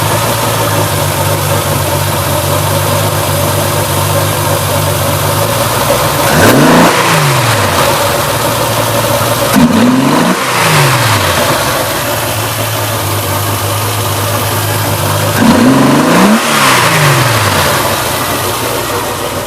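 Triumph TR250 engine on triple Weber DCOE 40 carburettors idles with a steady, loud, near rumble, broken by three quick throttle blips that rise and fall at a few-second spacing.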